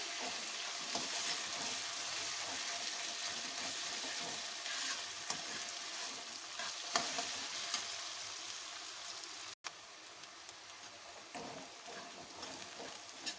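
Onions with ginger-garlic paste fry steadily in a pan, a continuous close broadband sizzle with occasional stirring scrapes, loud and even throughout with one brief dropout, no talking.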